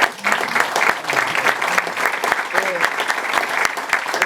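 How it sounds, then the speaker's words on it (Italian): Audience applauding at a public address by an Italian minister, dense sustained clapping from a crowd filling the whole moment, with faint voices underneath. "mi piacerebbe che fosse dato un applauso"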